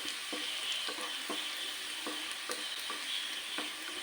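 Onion frying in ghee, a constant quiet hiss with faint rhythmic scrapes of a spoon every half second or so, near but low in level, no talking.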